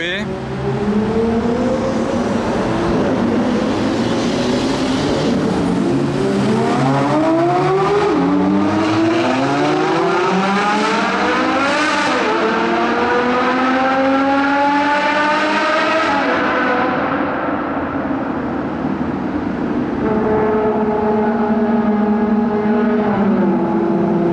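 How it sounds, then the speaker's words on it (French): Modified cars accelerate at a tunnel entrance at night, engines revving loudly and climbing through rising, echoing sweeps, one after another, then fading before a final lighter rev. "Et moi je suis là à l'entrée d'un tunnel à filmer des accélérations."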